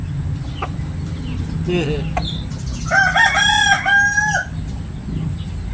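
A Pakistani rooster of the burukdol Texas breed crows once, a loud drawn-out call standing out over a steady low rumble of background noise, with faint clucks and farmyard sounds before and after.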